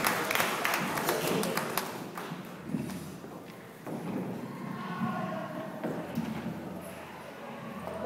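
Audience applause greets a speaker at a Spanish-language book presentation, a dense burst of many hands clapping that starts loud and tapers into scattered claps and room murmur over several seconds.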